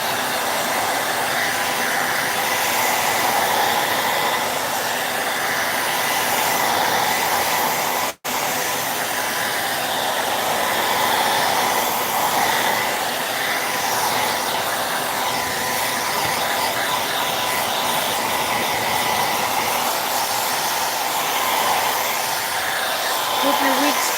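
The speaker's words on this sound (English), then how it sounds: "Back with the hair dryer. I'm going to make sure I get this good and dry this time before we stamp." A hair dryer blows steadily while drying an upcycled craft project, a loud constant whooshing hiss that runs almost without break, cut by one brief instant of silence.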